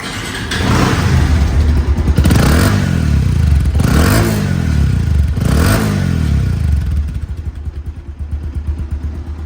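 A Bajaj Avenger ABS motorcycle engine idles loudly nearby, rising in three quick revs before settling back to a steady chugging idle.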